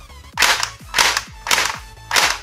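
A G36C toy gun fires four sharp cracks spaced about half a second apart. Each shot comes with a short mechanical clatter, and the recording is close and fairly loud.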